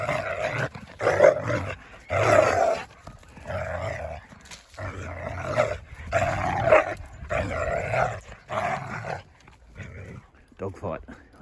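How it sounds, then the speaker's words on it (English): Dogs at play outdoors on a chilly autumn morning bark, growl and snarl in rough bursts, close and loud, with a voice talking intermittently over them. "Dog fight."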